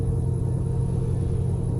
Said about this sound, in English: I heard the car coming up in my headphones.